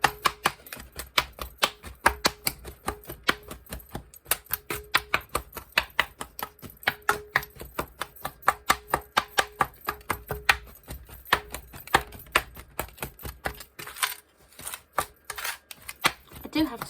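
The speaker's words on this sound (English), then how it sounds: "I'm going to chop up the sand, as I usually do." Casting sand being chopped up in a tray, a long run of sharp, rapid dry taps and scrapes in an uneven rhythm, close and crisp, with brief pauses and a denser flurry toward the end.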